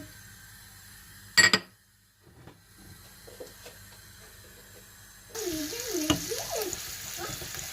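Ground meat hits a hot pan with a brief loud sizzle, then a steady hiss of frying builds and continues.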